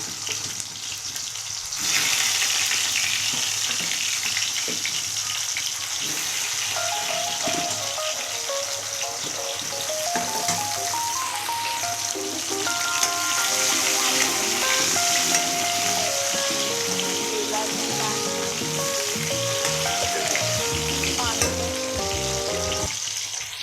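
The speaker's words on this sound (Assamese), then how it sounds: "কাচকলখিনি মই প্ৰথমে ফ্ৰাই কৰি ল'ম।" Raw banana pieces fry in hot oil in a kadai, giving a loud, steady bubbling sizzle that runs close and continuous throughout, with occasional stirring and background tones but no speech.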